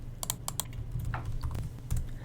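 Fast typing on a computer keyboard, a quick run of crisp close key clicks with a low steady hum underneath.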